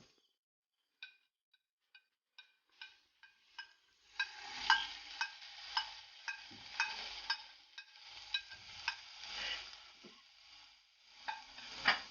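Chicken with green masala and soy sauce in a pan for Andhra-style green chilli chicken, first a series of sharp spoon taps, then a steady sizzle with rhythmic stirring scrapes.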